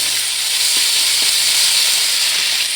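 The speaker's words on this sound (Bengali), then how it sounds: "ভালো করে মশলাটা একদম লো আঁচে কষাতে হবে নাহলে ঘিটা পুড়ে যাবে" Spice paste of ginger and turmeric frying in ghee over low heat, a loud continuous bright hiss that stays even throughout with faint soft stirring underneath, no voices.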